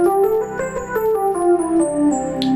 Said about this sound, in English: So, Ionian mode sounds like this.